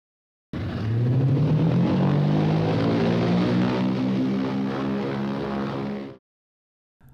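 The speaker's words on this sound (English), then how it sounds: "Let's install the propeller and see if the engine works." Small electric model engine spinning the propeller on a 1/48 scale SB2C-4 Helldiver dive bomber kit, a close, loud whirring buzz that starts abruptly, rises slightly in pitch, holds steady for about five seconds, then cuts off.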